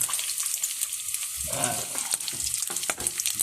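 Oil sizzles steadily in a frying pan with a crackling hiss while milkfish is cooked, and a voice speaks briefly over it partway through.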